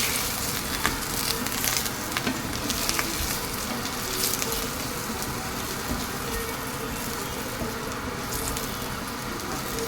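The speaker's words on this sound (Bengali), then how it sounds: "এবার আলুটাকে ভালো করে লাল লাল করে ভেজে নেব" Potato pieces fry in hot oil in a pan, giving a steady, dense sizzle with crackles that runs the whole time, close and fairly loud, with no talking.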